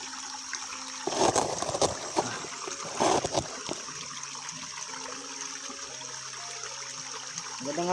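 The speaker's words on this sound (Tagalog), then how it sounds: "Lakas na ng tubig dito tol." Water flows strongly at a sacred spring, rushing and splashing in bursts over a steady background, while faint music plays along.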